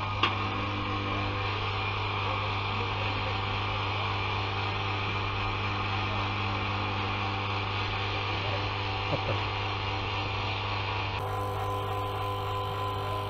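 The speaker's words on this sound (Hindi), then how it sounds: "तो ये मशीन पिछले करीब 20-25 मिनट से वैक्यूम का हो रहा है इसमें" A vacuum pump runs steadily while evacuating an inverter split air conditioner during gas charging, giving a constant low hum with a buzzing drone for the whole stretch. A brief knock sounds near the start and another later, and the tone shifts slightly near the end.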